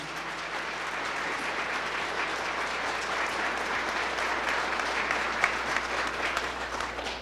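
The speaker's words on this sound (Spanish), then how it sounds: "Fuertes aplausos al Señor Jesús" Congregation applauding in a church during a Spanish-language Catholic service, a steady, full roar of many hands clapping at even loudness throughout, with faint background hum and no speech.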